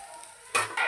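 Ginger garlic paste hitting hot oil for chicken curry, a quiet hiss that erupts into a sharp, bright sizzle midway, swelling again toward the end, close and without talk.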